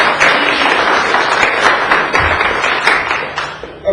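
A county commission meeting audience applauds, steady close clapping from many hands that holds evenly throughout before tapering slightly at the end.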